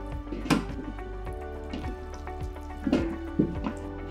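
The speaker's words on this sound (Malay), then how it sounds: "Dah boleh goreng ni." Roti canai dough sizzles steadily in a hot pan. A few sharper knocks and scrapes sound close by over the continuous frying hiss.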